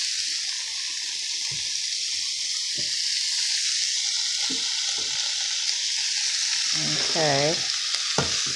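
Jackfruit pieces stirred in a frying pan, with a continuous sizzle and scattered spatula scrapes and taps, then a brief burst of bubbling or running water near the end; a voice speaks a single short word.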